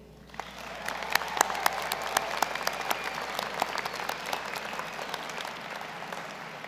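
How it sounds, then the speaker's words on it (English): A graduation convocation audience bursts into applause, rising quickly from near quiet into a sustained crowd clapping with distinct sharp individual claps near the front, staying moderately loud throughout. "Graduates, please join in a round of applause for all the support your family and friends have provided"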